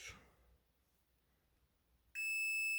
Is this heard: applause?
no